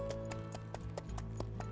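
Horse hooves clip-clopping as a rider sets off in the Nancy Drew game Secret of Shadow Ranch, a steady repeating beat of hoof strikes over a continuous low hum and background music.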